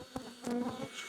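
Honeybees buzz at a hive, with several individual bees droning close by in short passing hums over a faint, steady background buzz.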